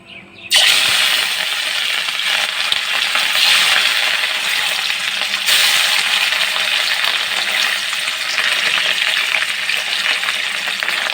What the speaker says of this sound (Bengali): আমি প্রথমেই মাছগুলোকে সর্ষের তেলে ভালো করে ভাজা করে নেব